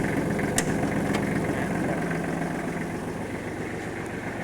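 Kubota L1-215 tractor engine running steadily nearby, a continuous low idling rumble with mechanical knocking texture, alone with no talk.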